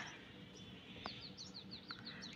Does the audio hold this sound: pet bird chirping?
yes